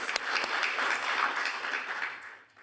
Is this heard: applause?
yes